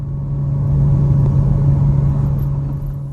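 Early 1999 Porsche Boxster 986 with a 2.5 litre flat-six and five-speed manual, its engine holding a steady low, even drone throughout, close and loud with no talk.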